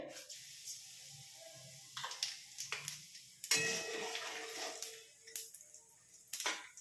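Black cumin seeds hitting hot mustard oil in a kadai crackle and hiss in irregular bursts, with sharp spitting pops and short sizzling surges rising and fading, no voices present.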